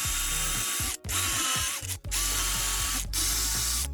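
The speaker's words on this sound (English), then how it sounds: "Now I drill." A power drill bores holes into a clamped wooden block in four roughly one-second runs, each buzzing steadily and close, with brief stops between them.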